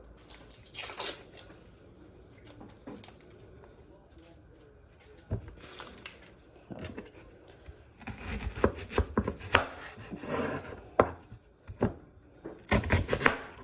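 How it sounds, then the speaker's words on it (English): A knife cuts through an onion on a board in bursts of crisp chops and thuds, with quieter handling between them and a voice talking in the background. "We're just going to cut the onion in half and then cut that in half."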